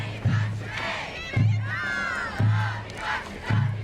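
A school group cheering in unison at a Rotary Santa Claus parade in 2017, with four loud rhythmic chanted shouts about a second apart and excited crowd voices in between.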